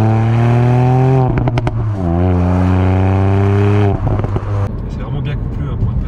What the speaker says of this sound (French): mais comment on l'entend à l'intérieur, comment ça pétarade.